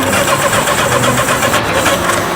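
A borrowed motorcycle's engine sputters and catches at close range, running with a steady, rough mid-pitched drone throughout.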